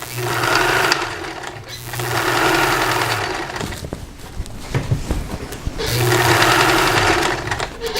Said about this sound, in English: I'm just going to top stitch it.